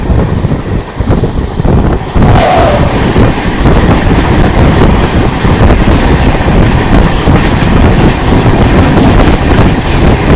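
Chennai–Trivandrum Super AC Express running at night in the rain, a loud steady rumble of rolling wheels and rushing wind with faint rhythmic clatter throughout.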